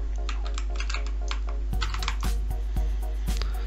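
Someone types a password on a computer keyboard, a quick run of light key clicks followed by several louder, spaced keystrokes close up.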